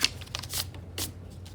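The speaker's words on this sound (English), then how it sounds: "very lightly get an eraser and try to erase any of those pencil lines" An eraser rubs lightly over paper to lift old pencil lines from a cardinal watercolor, a quick series of dry, papery scrubbing strokes, close and fairly quiet.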